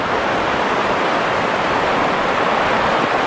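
A river rushes steadily beside a Lake District wild campsite, a dense, constant roar of flowing water close by, unbroken and loud with no voices over it.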